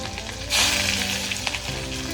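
A sudden sizzle breaks out as onion drops into a very hot wok over a wood-fired stove, then settles into steady, crackling frying.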